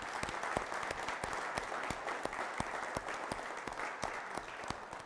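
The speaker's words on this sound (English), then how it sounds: "So let's give Roger a round of applause." Sustained applause from an audience at an annual association meeting, a steady wash of clapping with dense rapid hand claps throughout, fairly distant and even in level.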